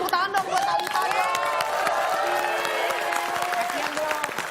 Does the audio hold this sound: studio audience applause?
yes